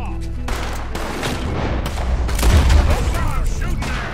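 Gunfire in Red Dead Redemption 2, a dense, loud volley of shots and booming blasts rolling on for several seconds, with voices shouting over the shooting.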